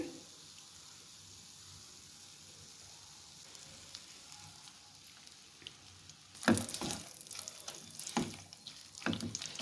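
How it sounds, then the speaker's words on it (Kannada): Ghee goes into a hot pan holding a dry fruit mixture for laddu, starting a sudden loud sizzle and crackle partway through after a quiet low hiss. Irregular bursts of spattering continue close by, with no talking. "ಇವಾಗ ನಾನು ಸ್ವಲ್ಪ ತುಪ್ಪ ಹಾಕ್ಕೊಳ್ಳೋಣ ಇದಕ್ಕೆ."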